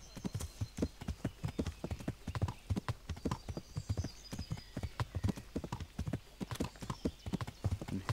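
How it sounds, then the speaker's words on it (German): A horse gallops while being ridden in Kingdom Come: Deliverance, a rapid, even clip-clop of hooves that stays loud and close the whole time with no talking. "Hihot, Pferdchen, laufe wie der Wind."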